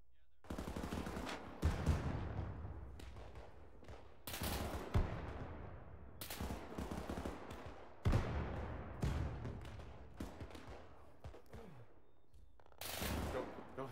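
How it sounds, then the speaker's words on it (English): Bursts of MG42 machine gun fire in the World War II game ArmA 3, loud rattling volleys repeating every couple of seconds with heavy impact thumps and a few quieter gaps between them. "That MG on the right is bad."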